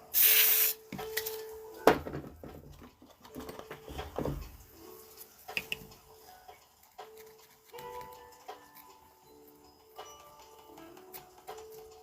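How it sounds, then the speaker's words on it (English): A loud aerosol spray hisses in one short burst onto a PS5 controller during a Hall effect stick mod, followed by scattered small clicks, taps and handling noises. "A bit of spray on there."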